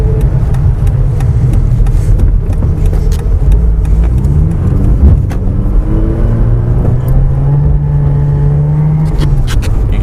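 Mazda RX8 rotary engine revving on an icy road as the tires slip, rising and falling in pitch in repeated pulls of the throttle, close and loud, with no voices.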